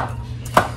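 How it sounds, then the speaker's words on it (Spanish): A knife chopping garlic on a cutting board for a shrimp dish, one sharp close chop standing out over a quiet low hum. "aquí estamos picando los ajos que le vamos a poner a los camarones"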